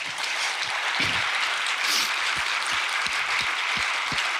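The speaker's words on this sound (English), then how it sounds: "A round of applause for Adam Kinzinger." Steady applause from a conference audience for speaker Adam Kinzinger at a FIFDH 2025 panel. A dense wash of clapping holds at an even level, with occasional low thumps underneath.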